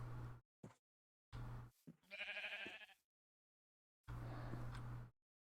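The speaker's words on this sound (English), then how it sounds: "That's a good derpy ass sheep." Sheep in a video game bleating several times, loud and close, with short, nasal, wavering cries separated by silences.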